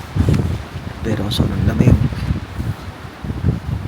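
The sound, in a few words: strong wind blowing at campsite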